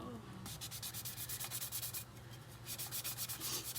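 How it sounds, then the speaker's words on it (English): Steady back-and-forth sanding along the edge of a glitter-coated epoxy tumbler, close and rhythmic strokes of abrasive rubbing that continue for several seconds with no talking. "Just taking a second, kind of sand down the edge."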